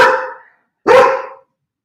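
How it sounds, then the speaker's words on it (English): A dog barks twice at home, two loud, close, separate woofs with a short silence between them and no talk. "oh, the joys of being live at home with your dog."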